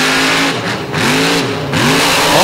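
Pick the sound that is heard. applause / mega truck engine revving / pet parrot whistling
mega truck engine revving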